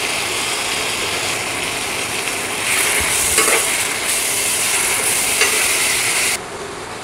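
A paste of ginger, cumin, garlic, onion, tomato and cashew frying in a pan, a dense, steady sizzle that swells midway with a few scraping stirs, then drops off abruptly near the end.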